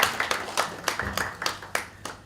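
A small group claps at a closing ceremony, the separate claps distinct and somewhat uneven in a sparse rhythm, with a murmur of voices now and then.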